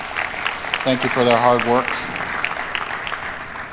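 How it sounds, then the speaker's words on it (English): Audience applause at a campus strategic plan forum, a soft wash of clapping running beneath someone speaking at a lectern. "Give them all a round of applause."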